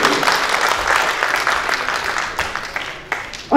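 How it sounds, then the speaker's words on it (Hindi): Audience applause at a poetry recitation: a broad wash of clapping from a crowd, steady and then fading slightly, with a brief voice at the very end. "जोरदार तालियों की तवक्को आप सभी से"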